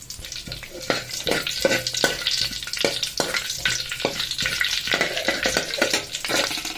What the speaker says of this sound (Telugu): ఆయిల్ హీట్ అయినాక ఆవాలు వేసుకుంటున్నా పోపు పెట్టుకోవడానికి ఆవాలు